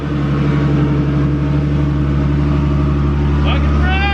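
A Formula Drift Nissan 370Z engine fires up for the first time and runs steadily, a loud, continuous throbbing drone that holds an even pitch throughout, with voices talking over it.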